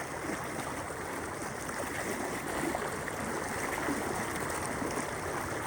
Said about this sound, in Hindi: ये खतरनाक सैलाब है